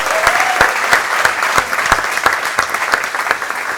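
Loud audience applause at a TEDx event in Lisbon for volunteers on stage, dense steady clapping from a large crowd filling the room with no voices over it.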